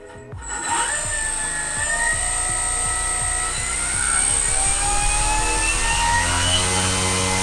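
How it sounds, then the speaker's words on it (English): Motor of a giant RC airplane spinning up from a standstill, a loud steady whine with a climbing tone that settles into a consistent buzzing drone, close by with no talking. "I could actually get the motor to run consistently and power it up"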